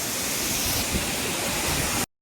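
Punnayar waterfall roars steadily in a full, dense wash of rushing water, loud and close, with no voices before it cuts off abruptly.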